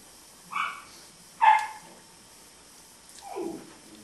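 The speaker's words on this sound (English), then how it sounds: "Excuse the barking in the background," A few short yelps and barks from young dogs sound at a distance, separated by quiet pauses.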